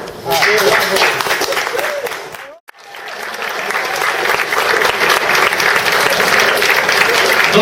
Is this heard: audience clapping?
yes